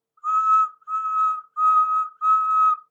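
Four clear whistle blasts in a steady rhythm, each about half a second with short gaps, from a steam engine whistle.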